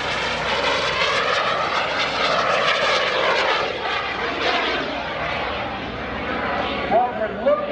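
A small aerobatic propeller airplane's engine drones loudly at an airshow, its pitch sweeping and shifting through a 6 G minimum-radius turn on its wing, with a voice talking over it.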